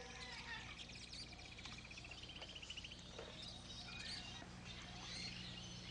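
A human voice imitates the call of a yellow-bellied sapsucker, producing a run of squeaky, chirping whistles and nasal squeals that rise and fall over several seconds, fairly faint against background noise.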